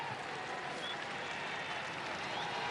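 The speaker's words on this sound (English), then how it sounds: "Some ironic cheers from the crowd" Ironic cheers and applause from a football crowd at an AFC Cup match between Balestier Khalsa and JDT in Singapore as a substitute comes on, a steady wash of stadium noise.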